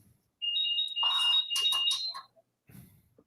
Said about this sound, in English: Every time I'm turning around, I'm hearing that beep beep beep beep.